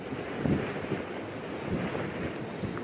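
Strong wind blows across open moorland on Dartmoor during a wild camp, a constant roaring rush with buffeting gusts on the microphone and no voices.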